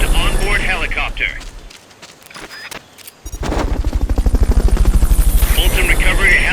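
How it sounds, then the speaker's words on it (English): A helicopter during a Fulton Recovery in Metal Gear Solid: Peace Walker, with a loud, steady rotor chop that dips briefly mid-way and then returns strongly, while a voice speaks over it. "Fulton Recovery subject confirmed onboard helicopter."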